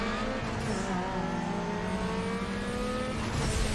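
Car engine in Need for Speed Underground 2 revving steadily high and slightly over-revving while racing, a continuous loud whine with shifting pitch and faint tire noise, no voices.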